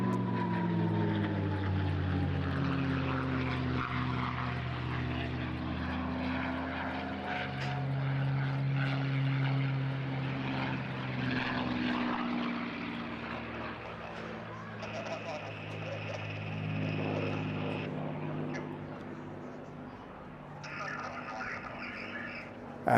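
A propeller aircraft departs after its airshow display, its droning engine hum steady and moderately distant, with a commentator talking over it and brief radio-like tones near the end.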